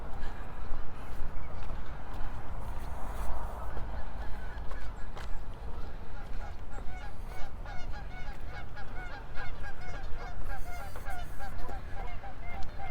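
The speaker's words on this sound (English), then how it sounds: "hopefully you've been able to hear the geese" Many geese honk repeatedly by a lake in Regina, some near and some farther off, over steady outdoor background noise and footsteps.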